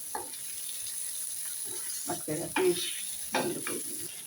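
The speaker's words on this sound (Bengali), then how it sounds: "এখন আমি ভাতনাতে সবগুলো ভেজে নিচ্ছি।" Bitter gourd and other mash ingredients frying in a pan for a Bengali bharta, a steady close sizzle with scraping stirs and a few louder clatters, no talking.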